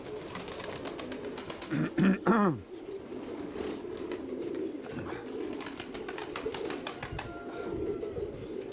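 Rock pigeons feed outdoors in strong wind, with a short burst of cooing and wing flaps near the start over a constant windy rush and faint clicks.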